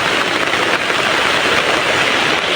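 Heavy rain pours down steadily in a rural vegetable-growing area, a loud, dense, unbroken hiss with no pauses or other sounds.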